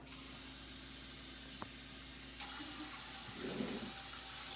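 Tap water runs into a measuring cup at a kitchen sink, a steady hiss that swells brighter and louder partway through as the flow increases, with no one talking.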